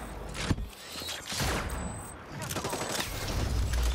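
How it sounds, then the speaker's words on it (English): Rapid bursts of gunfire in the video game Hyper Scape, a dense fusillade of shots over a busy battle mix with some faint talk underneath. "You can see where they're shooting me from."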